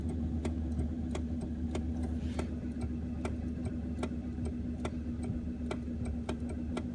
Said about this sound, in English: So you hear the actual solenoid pulling the pin that releases this shifter lever.